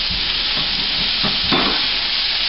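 Vegetables sizzle steadily in a hot frying pan, a close, constant hiss broken by a few brief stirring scrapes, with no talking.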